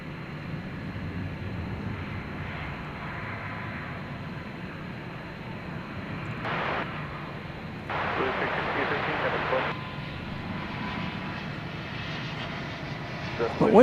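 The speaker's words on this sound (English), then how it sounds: "American Flight 132 to Dublin is next, and it is already rolling down the runway" A Boeing 777, American Flight 132 to Dublin, rolls down the runway at DFW Airport at night, a distant steady jet engine roar building slightly, with people talking over it.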